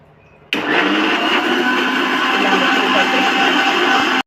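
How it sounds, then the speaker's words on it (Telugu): Mixer grinder blending Oreo biscuits with cold milk and sugar for a milkshake, switching on abruptly and then whirring loudly and steadily for several seconds before cutting off. "ఒకసారి ఇది మిక్సీ పట్టేసుకుందాం"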